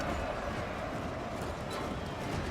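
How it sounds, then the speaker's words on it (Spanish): Horse hooves clip-clop in a strategy video game with samurai units, a dense steady patter of hoofbeats at low volume with no clear gaps. "¿Por qué aparece un caballo aquí?"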